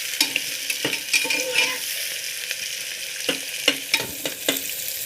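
Onions sizzle in a pan for an Assamese pulao and meat dish, a steady close hiss broken by several sharp scraping strokes as a spoon stirs them.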